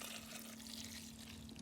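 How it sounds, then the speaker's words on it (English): Red wine poured into a dish in a steady, continuous trickling stream, close and fairly soft, with a faint background hum. "And into this dish, I'm going to pour some red wine"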